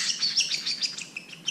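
A pet bird chirps a rapid series of high, bright tweets close by, about a dozen quick notes in a second and a half, alone with no talk.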